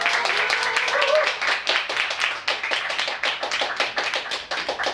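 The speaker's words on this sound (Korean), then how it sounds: "박수로 부탁드립니다." Audience clapping at a live music show in a wine bar, a small crowd applauding with sharp, dense hand claps that thin into scattered taps toward the end, close and fairly loud.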